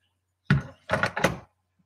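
A Titan Master toy figure dropped into a plastic Transformers toy vehicle, giving three short hollow plastic knocks in quick succession, close and clear against silence.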